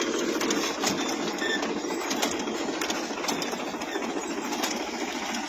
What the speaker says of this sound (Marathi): आता हा क्रिपर फर्स्टमध्ये ट्रॅक्टर चालू आहे